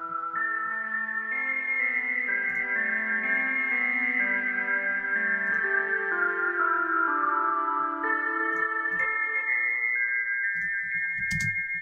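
A DCO-106 synthesizer with its resonance turned fully up and an oscillator added plays a sustained, shifting run of tones, bright and resonant with echo, steady and loud until a brief noisy burst at the end.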